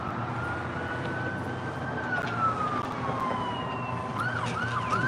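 A police or ambulance siren wails steadily from a vehicle driving by on a street in Arlington, its pitch sliding and shifting over constant traffic rumble, moderately loud and without talk.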